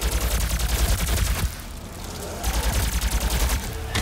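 The plasma rifle in Doom fires in rapid, loud bursts, a dense stream of repeated energy shots with a brief pause mid-sequence before firing resumes.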